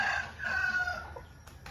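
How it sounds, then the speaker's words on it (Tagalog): A chicken crows once, close and fairly loud, a sustained strained call that trails off within about a second and a half, with no talking. "Ano na may manok dire?"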